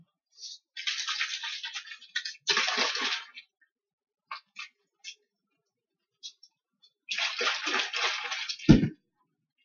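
Water is sprayed from a hand-held water bottle in several sharp hissing bursts of a second or two each, with quiet pauses between them, fairly close and alone.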